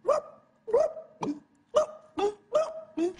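Someone mimics the bark of a sick, weary dog with their voice, producing seven hoarse, hiccup-like yelps in an irregular rhythm, close and alone.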